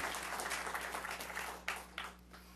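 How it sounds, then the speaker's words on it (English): A summit audience at an entrepreneurship and small business keynote applauds, a fairly quiet and somewhat distant patter of clapping that thins out, ending in a couple of isolated claps. "Yes, give yourself a round of applause."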